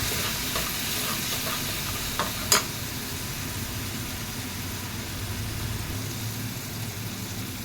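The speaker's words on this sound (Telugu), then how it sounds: "ఉల్లిపాయలు కొద్దిగా బాగా వేగాలండి" Onions fry in a pan for drumstick and egg curry, a low steady sizzle with soft stirring scrapes and one brief sharp clink, fairly quiet and close with no talking.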